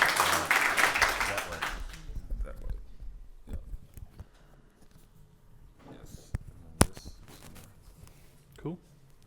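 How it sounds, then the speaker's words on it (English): Meetup audience applauding for a software talk in Amsterdam, a dense burst of clapping that swells at the start and thins out within a couple of seconds, followed by scattered room noise and a few sharp knocks. "Big round of applause for Frank Scholten, please."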